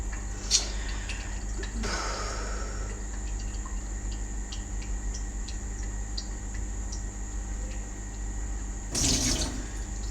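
Tap water runs into a measuring cup for homemade mac and cheese, a steady faint splashing stream broken by a couple of brief louder gushes and clinks, with no talking.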